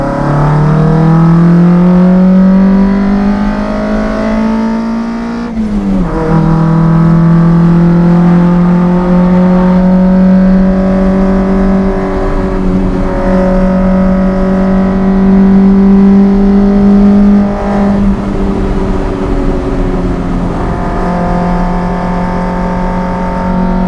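A car engine makes a full-throttle pull during road tuning, revs climbing steadily in a loud close roar, dipping briefly at a shift around the middle before rising again, with no talking over it.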